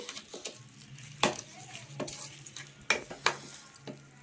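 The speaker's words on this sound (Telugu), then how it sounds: "స్టవ్ ఆఫ్ చేసేసుకునేసి దీంట్లో వేసేద్దాం. వేసేసి ఒకసారి కలుపుకుందామండి." Nalleru (Cissus quadrangularis) chutney being stirred in a pan with a spoon after curry leaves go in and the stove is switched off: soft scraping and sizzling with a few sharper clinks, close and fairly quiet, with no talking.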